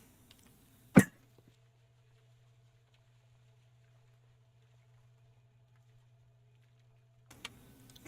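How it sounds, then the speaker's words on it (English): A single sharp cough near the start, followed by a long quiet stretch with a low steady hum, then faint movement noise at the end. "Bit of a cough today"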